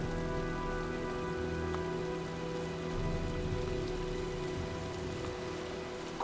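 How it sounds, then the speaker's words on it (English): Rain pours during a storm in the video game Heavy Rain. It is a steady, dense hiss that holds throughout at moderate volume, over a low droning hum. No one speaks. "Well, looks like a storm's coming."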